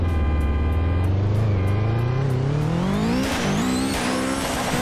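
A simulated 2000 hp Subaru Legacy race car in a Roblox racing game launches hard from the line, the engine revving steadily upward with tire squeal, loud and continuous.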